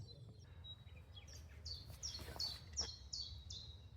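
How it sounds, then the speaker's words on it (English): A chiffchaff sings in spring woodland at Colwick Hall, Britain, a series of short, repeated high notes that sound somewhat distant over a low background rumble. "that bird song is a chiffchaff, one of the commonest warblers in Britain"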